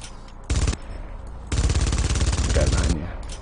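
Gunfire in the video game Splinter Cell Blacklist, with a short loud burst followed by a longer sustained stream of rapid shots, close and dominant.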